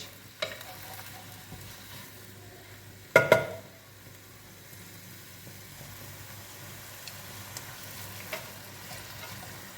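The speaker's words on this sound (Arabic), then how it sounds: "هكذا خليها تتقلم مليح مع هذاك البصل حتى تشوفيه دبل كامل." Onions cooking in a pan for a tripe dish with onion and tomato give off a faint, steady sizzle, and a short burst of scraping marks a stir partway through. A few soft clinks follow later.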